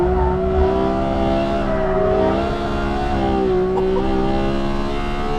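A Porsche 911 GT3 engine drones loud and steady while driving, a sustained high-revving flat-six tone holding near-constant pitch with slight rises and dips, close and continuous with no talk.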